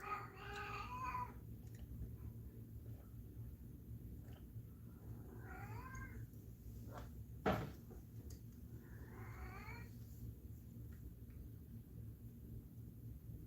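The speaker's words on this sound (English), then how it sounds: "There goes that downstairs neighbor's door." A downstairs neighbor's door opens or closes with a single muffled thump from below, heard faintly through the floor over a steady low hum, with a cat meowing nearby before and after.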